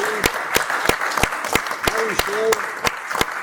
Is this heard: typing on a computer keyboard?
no